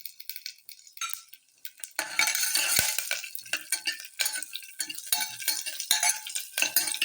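Dried red chili and curry leaves hit hot oil for an Andhra-style okra rasam, starting with a few sharp utensil clinks and then breaking into a bright, steady crackling sizzle that continues close up with scattered taps.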